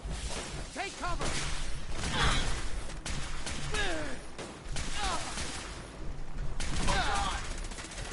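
Bursts of gunfire in Fallout 4 mixed with whooshes and crashes, moderately loud and broken into several clusters, with in-game voices speaking over the shooting.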